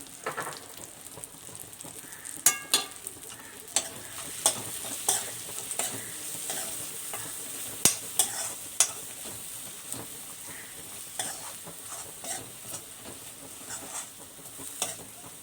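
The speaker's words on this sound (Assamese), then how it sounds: "অলপ টাইম এনেকৈ মছলাখিনি ভাজি লওঁ" Spices with red chilli powder and salt frying in hot oil in a pan for a rohu fish curry, with a steady sizzle and repeated sharp scrapes of a spoon stirring through them; no one speaks.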